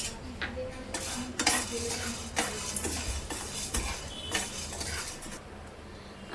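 Wheat grains are dry-roasted in a pan and stirred steadily, giving a quiet, continuous rattle and scrape of grains with repeated light clinks of a utensil against metal.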